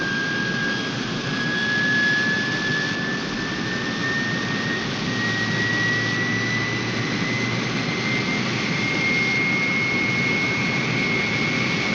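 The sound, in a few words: aircraft jet engines during takeoff roll in a 1960 film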